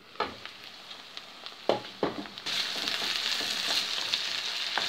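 Onion frying in a pan until golden: a few clicks and scrapes of stirring with a fork, then a steady, fairly close sizzle that fills the second half.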